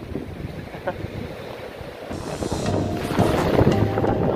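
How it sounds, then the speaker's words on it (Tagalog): Strong wind buffets the microphone at sea at night during shallow-water net fishing, a steady roaring wash with water sounds that grows louder toward the end, no voices. "Ang lakas ng hangin po pre."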